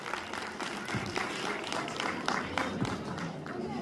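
Audience at a government middle school annual prize ceremony clapping, a loose crowd applause of uneven claps filling the short clip at moderate level.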